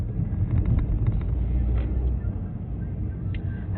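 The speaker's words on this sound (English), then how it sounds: "So this is my first trolley ride as well." Steady low rumble of a moving trolley ride in New Orleans, a continuous vehicle drone with wind-like noise and faint rattles throughout, no clear talk.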